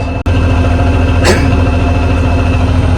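A YTO ELG 1754 tractor sits running, its engine holding a steady, loud, low idle hum with a constant drone throughout and no talking.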